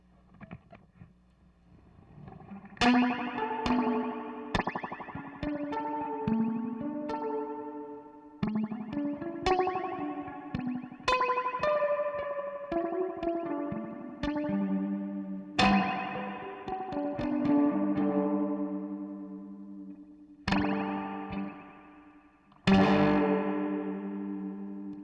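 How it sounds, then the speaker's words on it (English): Looped plucked synth notes run through a warped vinyl chorus pedal with spring reverb added, wobbling tones ringing into a washy, echoing tail between steady note attacks. "Maybe let's add Spring Reverb."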